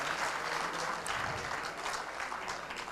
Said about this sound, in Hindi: तालियां आप बजा सकते हैं